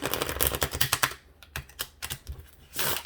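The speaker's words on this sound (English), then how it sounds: "I have these oracle cards. I'm going to shuffle them really fast." Oracle cards being shuffled quickly, giving a dense run of crisp riffling flicks and snaps that pause briefly, then resume in short bursts, close and fairly loud with no talking.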